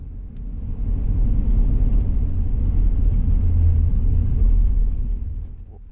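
A car drives along US Route 66 near Needles, California, its low road rumble and engine drone steady and close for about five seconds before easing off, with no talk.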